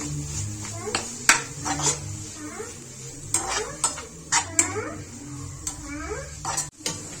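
Palya of harive greens being stirred with grated coconut in a pan, close scraping and clinking of a utensil against metal in uneven strokes, with soft sizzling and background noise.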